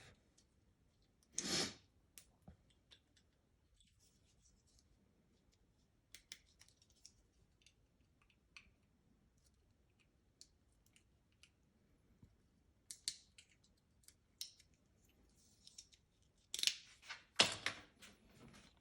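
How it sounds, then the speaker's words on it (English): Quiet, close snips and scrapes as a utility knife trims small burrs off a part for a homemade chicken wheelchair, with a few sharp cutting bursts and scattered light clicks between long near-silent gaps. "utility knife or something and cut all those little burrs and stuff off"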